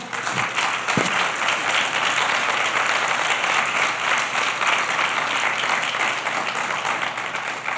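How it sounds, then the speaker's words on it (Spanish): Applause from a church congregation praising the Lord, a dense, sustained wash of clapping filling the room at steady loudness throughout. "Dale un aplauso al Señor"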